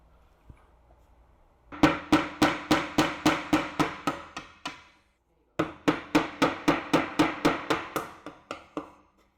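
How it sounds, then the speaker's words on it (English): A hammer strikes a No. 1 Phillips screwdriver to punch a hole for a plastic bracket, in two quick bursts of about a dozen sharp, evenly spaced taps each, close and clear with no talking. "we're gonna use our number 1 Phillips head screwdriver and a hammer, and we're just gonna poke a hole"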